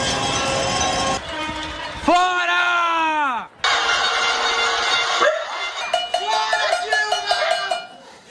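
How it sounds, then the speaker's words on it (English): Pot-banging protest in Sao Paulo, with metallic clanging, blaring car horns and shouting voices echoing among buildings, loud and continuous, while a crowd chants. "Her critics had organized a kind of pot-banging protest"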